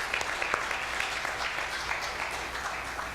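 An audience claps steadily in a hall during a church testimony gathering, a dense, continuous round of applause heard close and loud for a few seconds before it starts thinning.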